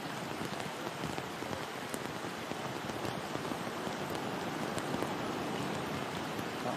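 Steady rain falling on a golf course during a professional women's tournament, a dense, even hiss of drops pattering on surfaces, continuous and fairly soft with a few sharper nearby drips.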